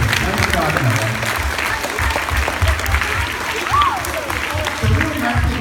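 Applause from an audience at a school ceremony honoring a student for a buddy bench, a steady sustained clatter of many hands clapping.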